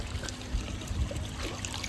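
Pond water from a jug trickles and pours steadily beside a DIY koi pond filter outdoors, a continuous soft splashing with no talk.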